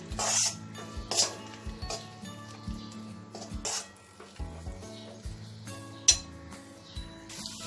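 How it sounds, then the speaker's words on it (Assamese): Spices, including cumin and coriander powder, sizzle quietly in a pan for a lentil curry while a utensil stirs and clinks against the metal now and then. No one speaks. "এইখিনি মই গোটেইখিনি ভাজি ল'ম"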